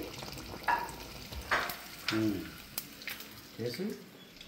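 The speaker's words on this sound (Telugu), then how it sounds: "ఇలా దగ్గరుండి మంచిగా ఫిష్ని ఫ్రై చేసుకోవాలి." Fish fries in a pan with an uneven sizzle, broken by occasional scraping and stirring bursts near by. Faint voice sounds come through at moments.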